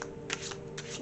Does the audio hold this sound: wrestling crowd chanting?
no